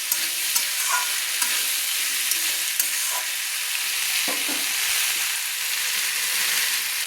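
Vegetables and spices with salt sauté together in oil for a vegetarian dal. A continuous close sizzle holds throughout, with occasional faint spatula stirring.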